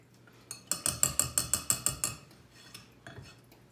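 A utensil stirs cake batter in a bowl, giving a quick run of about ten rhythmic clinks against the sides, then a few scattered taps, close and fairly quiet.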